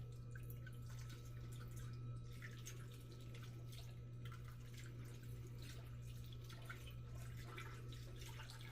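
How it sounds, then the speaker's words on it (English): Syrup poured over quinces in a slow cooker, a faint, thin trickle and dripping against a steady low hum, quiet and without speech. "I'm going to pour this right over top of them, each one"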